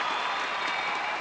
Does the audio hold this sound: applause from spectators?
yes